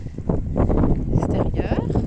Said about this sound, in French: Il y a un vent de dingue.